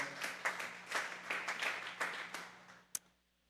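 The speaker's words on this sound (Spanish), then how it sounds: "Vamos a darle esa ofrenda de palmas a Dios en esta hora" A church congregation claps in a steady flurry of overlapping palms that carries on for about three seconds and then ends with one sharp final clap, with no one speaking.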